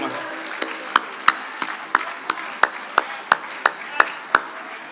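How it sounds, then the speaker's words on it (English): Applause for the groom at a wedding reception, heard as sparse, irregular claps from a few guests over a murmuring room. "can we have a big round of applause for the groom?"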